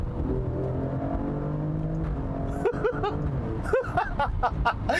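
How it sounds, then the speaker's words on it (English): A 2019 Alfa Romeo Stelvio Quadrifoglio SUV engine revs hard in paddle-shift manual mode, droning and rising, then barks through several sharp throttle blips and pops near the end, loud and close. "This car is so unbelievably loud."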